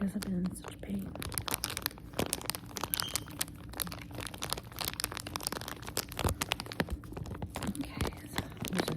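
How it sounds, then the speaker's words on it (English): A plastic bag, with another bag tucked inside, is handled and crinkled at close range, producing a dense run of crackly rustles and crunches, with quiet talk alongside. "There's another bag inside of this plastic bag."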